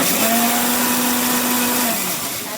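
Mixer grinder whirring steadily as it grinds masala paste for kurma, a loud continuous motor drone with a faint pitch wobble that eases slightly near the end.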